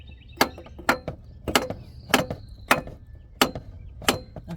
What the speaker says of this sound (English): you take a large ball peen hammer like this and hit it